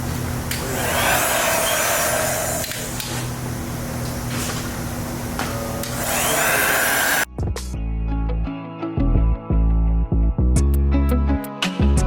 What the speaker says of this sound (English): feel free to use a heat gun to kind of get it around the edge, to form it around it